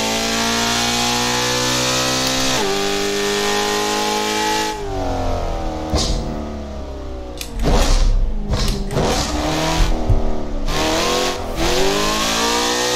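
A BMW M3 E92 with a straight-pipe exhaust in the Assetto Corsa racing game holds a steady loud drone, then revs sharply up and down through gear changes, the harsh raspy roar filling the whole clip with no talking.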